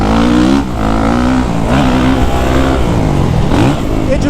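A 2023 Kawasaki KX450SR dirt bike engine pulls under smooth, steady throttle, its loud, close buzzing note lugging low and repeatedly rising and falling in pitch with a few brief dips.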